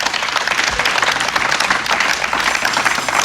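A church congregation applauds and acclaims Jesus, a dense, sustained burst of clapping from many hands filling the room without any spoken words.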